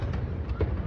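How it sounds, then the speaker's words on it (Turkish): New Year fireworks burst in a brief, dense rumble of low booms and crackle, with a louder thump near the end. "dünyanın dört bir yanında gökyüzünü havai fişekler aydınlattı."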